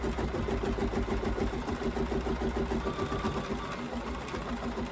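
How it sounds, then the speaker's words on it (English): An embroidery machine stitches the foundation layer of an in-the-hoop zombie face mask, giving a steady, loud, fast mechanical whir with a rapid needle rhythm that runs without a break throughout. "She's just doing its foundation stitches up."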